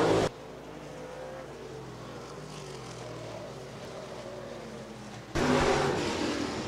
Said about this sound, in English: Second and final heat race for the USRA Stock Cars.